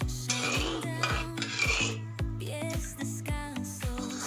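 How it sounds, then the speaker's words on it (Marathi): A spoon scrapes and clinks steadily against a metal pot while sugar is stirred until it dissolves for sugar gathi, with repeated rhythmic knocks and scraping, close and fairly loud, no talk. "अशा पद्धतीने साखर विरघळेपर्यंत आपल्याला हलवत राहायचंय।"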